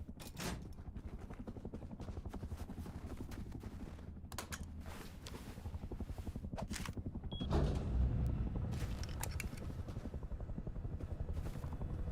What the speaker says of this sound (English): Heli's coming this way